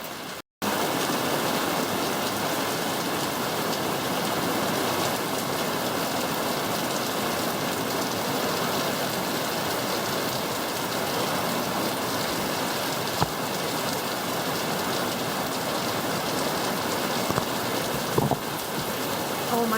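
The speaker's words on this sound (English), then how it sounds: "Oh my gosh, it is raining so hard." Heavy rain pours steadily on a rainy day, a dense, even hiss filling the whole stretch with only brief dips and no voices.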